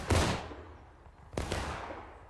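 In War of Rights, two massed musket volleys crack out a little over a second apart. Each is a loud, ragged burst of many shots that echoes and fades, heard without talk.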